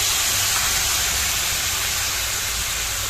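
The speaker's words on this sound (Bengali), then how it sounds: "এবার কেটে রাখা আনারসগুলো দিয়ে দিলাম" Chopped, slightly underripe pineapple hits a hot pan of oil with mustard seeds for a chutney, giving a steady, loud, broadband sizzle that continues unbroken with no talking.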